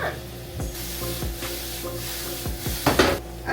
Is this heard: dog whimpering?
no